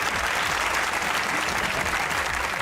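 Dense, steady applause from the studio audience of the comedy talk show Hasna Mana Hai, many hands clapping together at an even level throughout.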